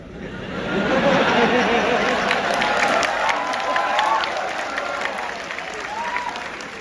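A university auditorium audience bursts into loud, sustained applause with scattered cheers, the clapping swelling over the first seconds and then slowly tapering off.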